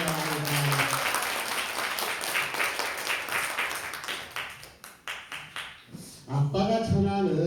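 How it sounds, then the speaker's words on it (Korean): A church congregation breaks into dense, lively clapping that gradually thins into scattered claps, then a voice speaks over the last of it. "우리 박수 한번 좀 쳐주시기 바랍니다"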